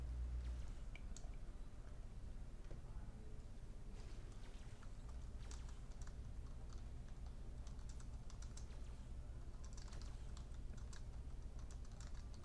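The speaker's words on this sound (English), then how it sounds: "my pause means I'm typing something" Keys clatter on a computer keyboard in quick irregular bursts, close and quiet, during a pause in an online practice session, with no one speaking over the typing.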